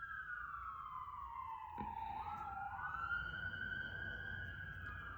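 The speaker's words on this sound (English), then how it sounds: "Ooh, there's a siren out there." An emergency vehicle siren wails steadily from a distance outdoors, its pitch sweeping down and back up, with no voices nearby.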